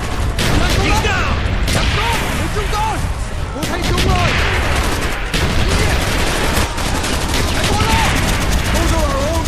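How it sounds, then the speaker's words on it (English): Mortar and small-arms fire in a Call of Duty Vietnam trench-line mission, dense continuous battle noise with repeated booms and bursts throughout, loud and close, with shouted voices mixed in. "Those are our own mortars!"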